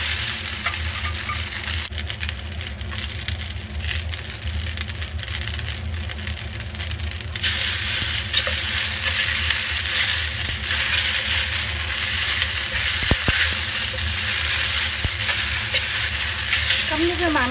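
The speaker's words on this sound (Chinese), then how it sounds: "而家最後就炒個河粉啦。" Rice noodles are stir-fried in a wok for dry-fried beef ho fun, a loud, continuous sizzle with scraping and occasional sharp clinks of the utensil against the pan.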